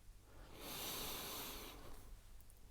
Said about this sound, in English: taking a deep breath in and holding it